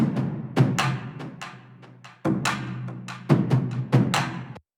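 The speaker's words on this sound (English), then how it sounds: "I took the main sample for the war drums," Sampled war drums pound in heavy, resonant hits with rolling flams and a sustained low boom between strikes, loud and alone, ending abruptly.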